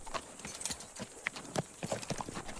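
Horses' hooves clip-clop on a ranch in a steady, fairly close rhythm of distinct strikes, with light background noise and no talking.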